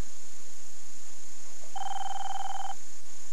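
A single electronic telephone ring in a cartoon, a steady buzzing tone lasting about a second, over a quiet background hiss.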